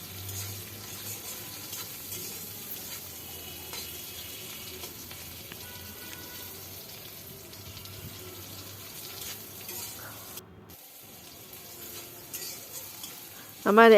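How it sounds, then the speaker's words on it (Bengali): Green chillies frying in oil in a pan before leafy greens go in for a Bengali greens mash: a low, steady sizzling hiss throughout, fairly quiet and close, with a clatter near the end. "এবার দিয়ে দিলাম কয়েকটা কাঁচামরিচ এই কাঁচামরিচটা যখন একটু ভাজা হবে"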